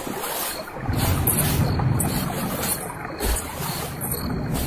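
A boat crossing a river as a sound effect in a horror tale, heard as continuous close water wash and blustery wind noise, with dull thumps and surges as the craft moves through the current.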